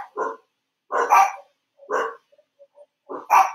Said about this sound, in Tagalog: Ito ang aking mga aso. Ang ingay nila.